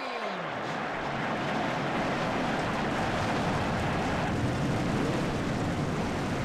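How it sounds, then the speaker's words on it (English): Race car engines of a full field firing up together for a Cup Series race at Auto Club in a racing video game: a dense, loud roar swells in at the start and then holds as a steady, continuous wall of sound. "And the field fires up for the third time this season, and they roll off 27 laps."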